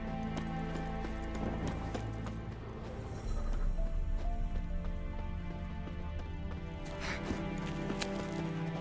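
Horse hooves clop steadily on the ground in The Witcher 3, a rhythmic, moderately close gait set within a dense game soundscape of ambient music and environmental noise, with no voices heard.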